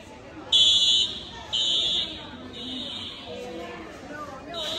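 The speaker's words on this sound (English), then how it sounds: "fire alarm is going off." A school fire alarm sounds in two loud, piercing electronic buzzes, each roughly a second long, with indoor chatter from people continuing beneath and after them.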